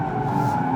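A 2024 Alfa Romeo Giulia Quadrifoglio sports sedan locks up its brakes under hard stopping, a brief continuous tire squeal and skid over engine noise, loud and steady.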